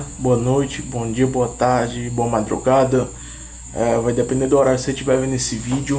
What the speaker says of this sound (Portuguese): Peço desculpa pelo barulho do grilo